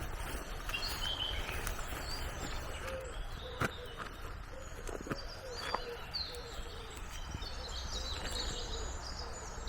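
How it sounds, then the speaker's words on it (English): Faint birds chirp and call in the distance over a steady outdoor hush, with occasional soft clicks close by. "Listen to the birds."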